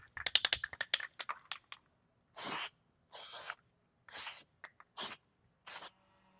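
Paint is sprayed onto the front bumper of a Mercedes Sprinter van. A flurry of quick clicks and rattles comes first, then five separate hissing aerosol bursts of about half a second each, close and loud with silent gaps between them.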